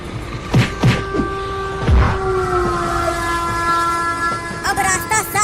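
A train's horn sounds in long sustained blasts over rumbling, clattering rail noise as the train passes, loud and close, with a few sharp knocks early on and a short burst of mixed noise at the end.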